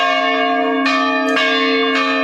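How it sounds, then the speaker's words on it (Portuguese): Church bells ring at a historic church, a steady loud peal of sustained overlapping tones with fresh strikes sounding about every half second, heard alone. "os badalos voltaram a bater em 6 igrejas históricas"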